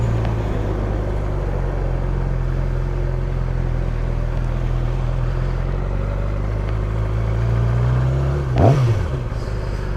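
A 2007 Yamaha R6 motorcycle engine with a slip-on exhaust idles steadily and loudly, then blips briefly with a quick rise and drop in pitch near the end.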